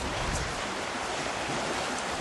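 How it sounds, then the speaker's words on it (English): Floodwater rushes beneath a submerged river bridge after the river burst its banks in East Sussex, a steady, loud broadband roar of churning water with wind buffeting the microphone and no talk. "The water's struggling to get right through."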